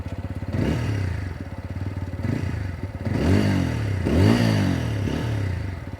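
A TVS Apache RTR 200 4V, a 200cc motorcycle, revving loudly and close by in several rising and falling bursts over a steady idle, with a little mechanical clatter.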